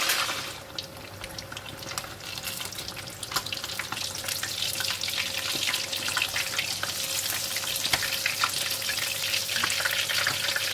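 Tilapia fish deep frying in a pan, a steady dense crackling sizzle that holds close and moderately loud throughout, alone with no talk.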